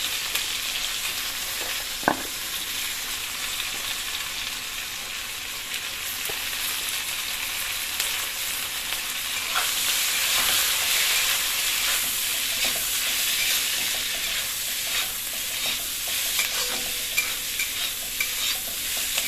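Chopped and ground onions frying in a pan toward light brown for a Bengali-style meat dish: a dense, continuous sizzle, growing louder midway, with occasional stirring clicks.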